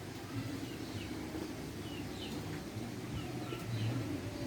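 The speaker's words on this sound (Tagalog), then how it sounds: "Yung mga kalapati natin." Pigeons in a backyard loft give soft, low cooing calls that repeat at intervals, with faint chirps and a steady outdoor background hiss, fairly quiet and with no one speaking.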